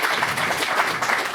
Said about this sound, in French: on vous applaudit une dernière fois